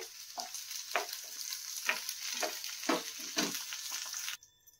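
Okra fries in oil in a pan, a close sizzle pulsing with about seven regular stirring strokes before it cuts off abruptly near the end.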